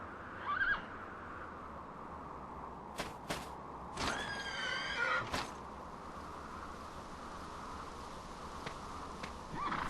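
A horse neighs in the video game Dragon Quest 8, a loud whinny with a short burst of sharp clicks before it, over a quiet steady background.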